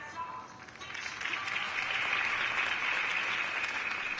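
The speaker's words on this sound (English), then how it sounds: "If only Mr. Wayne, my campaign's largest backer, could have heard that applause" A crowd in the video game Batman: The Telltale Series breaks into applause that swells from scattered claps into steady, sustained clapping, heard at moderate distance and fairly soft.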